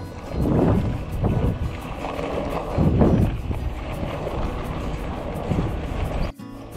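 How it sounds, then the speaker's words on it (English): Wind gusting across an open outback track during a bicycle tour in Australia, a steady rushing roar with stronger buffets that rise and fall, close on the microphone, then a brief drop near the end. "Little bit of wind starting to blow from the north."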